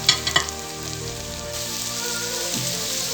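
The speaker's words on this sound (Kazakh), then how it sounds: "Қуырылған еттің үстіне пиязын салып, араластырып екеуін" Meat fries with onion, carrot and sweet red pepper in a pot, giving a steady crackling sizzle with a few stirring knocks at the start, moderately loud and without talk.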